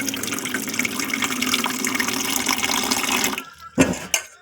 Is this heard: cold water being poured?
yes